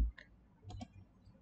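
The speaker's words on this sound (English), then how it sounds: "I first select all the files and then I click on move button" Two quick, close computer mouse clicks on a file manager's move button, sounding as a sharp double tick in a quiet room after a brief soft thump.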